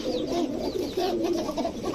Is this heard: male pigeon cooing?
yes